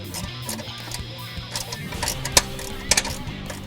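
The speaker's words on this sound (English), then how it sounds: "Start by removing the retaining bolt for the clip." Ratcheting and clicking of a hand tool loosening the retaining bolt on a fuel vapor line clip under a 2013-2014 Mustang GT, close and fairly quiet, with a few sharper metallic clacks toward the end.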